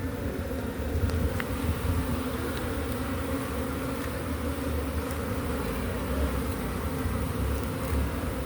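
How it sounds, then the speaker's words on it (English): Honeybees swarm in and around a water meter box during a bee rescue, a steady, dense buzzing hum that holds at an even level throughout without pause. "We got a queen."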